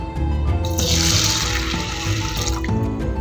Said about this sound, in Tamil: தண்ணி ஊற்றி ஊற வச்சுருவோம்.